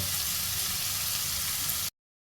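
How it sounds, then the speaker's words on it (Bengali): Onions frying in a pan with a pinch of salt, a steady close sizzle with faint bubbling that cuts off abruptly. "পেঁয়াজটা যতক্ষণ ভাজা হচ্ছে ততক্ষণ মাছের অবস্থাটা একটু দেখে নিই"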